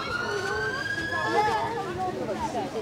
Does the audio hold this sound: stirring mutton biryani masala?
no